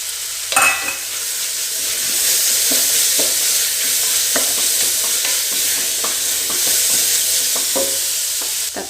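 Ginger, garlic, fennel seeds and curry leaves fry in a hot pan with a steady loud sizzle, punctuated by a sharp clatter at the start and repeated scraping stirs.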